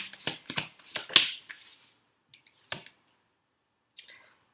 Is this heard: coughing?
no